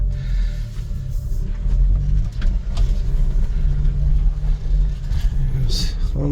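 A 1999 Subaru Sambar 4x4 mini truck with fuel injection and a five-speed manual drives along, its engine and road noise a steady, loud low rumble heard from inside the cab.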